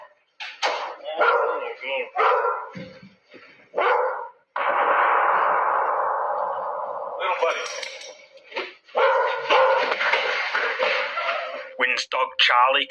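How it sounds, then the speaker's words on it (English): Charlie the dog barks in short, sharp bursts at something, with a longer whining stretch in the middle, while a person talks softly nearby. "Wynn's dog Charlie can be heard barking at something."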